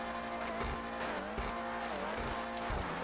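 Tires squeal on a Dewbauchee Vagner supercar in GTA 5, a continuous faint screech riding over a steady engine hum with small bumps and thuds, fairly quiet throughout.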